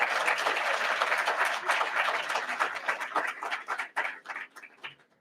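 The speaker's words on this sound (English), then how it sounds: "So give yourselves a round of applause for those of you who are here for academic performance." Audience applause at an awards ceremony, a roomful of people clapping briskly and evenly before the sound breaks into scattered claps and fades out.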